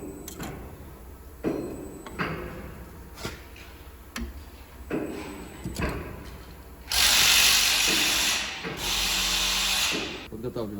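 New cylinder head bolts are tightened on a MAN TGM D0836 diesel engine: intermittent ratchet clicks and metallic knocks up close, followed by a louder burst of sustained mechanical noise near the end.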